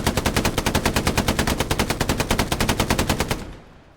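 Sustained automatic fire from a tank's machine gun in the video game Hell Let Loose, a loud rapid rhythmic burst of evenly spaced shots lasting over three seconds before cutting off into a fading tail.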